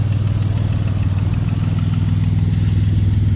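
A BMW 330Ci engine idling steadily up close with a suspected faulty hydraulic lifter ticking, a constant low rumble holding even throughout with no one talking.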